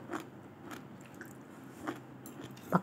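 Crunchy pak choy is chewed close up in a few separate crisp bites and crunches, faint and irregular against a quiet background.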